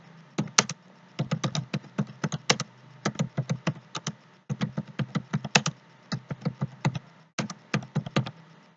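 Typing on a computer keyboard to enter a short greeting into an AI voice-synthesis app, with close, crisp keystrokes in quick bursts separated by brief pauses, no speech.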